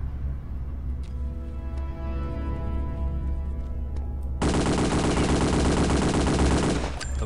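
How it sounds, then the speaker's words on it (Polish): A Thompson submachine gun in the game Return to Castle Wolfenstein fires one sustained, loud rapid burst lasting a few seconds, following quieter in-game sounds. "poszła seria z Thompsona"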